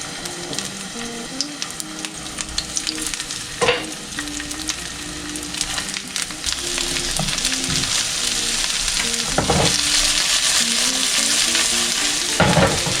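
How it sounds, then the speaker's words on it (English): Brussels sprouts sautéing face down in olive oil, a steady crackling sizzle that grows fuller and louder partway through, with occasional scrapes and light clatter; no talk. "I'm gonna saute it with a little extra olive oil. So let's saute it with face down."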